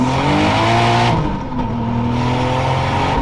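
A 600hp turbocharged Toyota Supra revs hard with an open wastegate, a loud, close, sustained engine roar with steady harmonics and a brief dip before climbing again.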